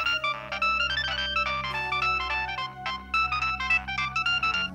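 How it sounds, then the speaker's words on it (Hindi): A phone ringtone plays a bright repeating electronic melody over a steady low backing, loud and continuous for several seconds with no talking. "कुणाल का फोन"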